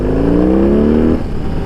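A 2021 BMW R18 motorcycle on stock exhaust with an ECU flash, its big engine revving up loud and close for about a second before dropping back to a rumbling idle.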